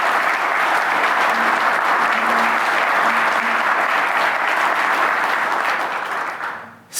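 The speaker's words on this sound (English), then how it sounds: "let us give them a warm round of applause" Warm audience applause at the reopening ceremony of the Freeman Family Holocaust Education Centre, a steady loud wash of many hands clapping that holds evenly, then fades and cuts off.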